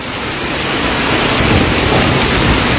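Heavy downpour in Arambagh under dark morning skies, a steady dense roar of rain close by with no voices, holding constant and swelling slightly louder.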